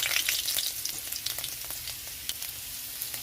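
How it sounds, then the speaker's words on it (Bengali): Panch phoron and bay leaves hit hot mustard oil in a kadai, a bright crackling sizzle that starts loud and settles into a steadier fry with scattered pops. "কড়াইতে সর্ষের তেল দিয়েছি, তেলটা গরম হয়ে গেছে। তো এখানে দিয়ে দিচ্ছি পাঁচফোড়ন, তেজপাতা,"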